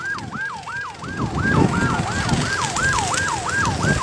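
A fire engine siren wails in a fast, repeating up-and-down pattern, loud and close, as the truck arrives at a burning wheat field struck by lightning, with engine rumble underneath.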